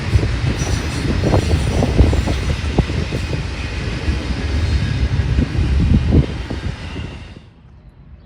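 Norfolk Southern freight NS-271, led by a Dash 9 locomotive, rolls past on the Sandusky District with a steady rumble and clatter of railcar wheels, then cuts off abruptly near the end.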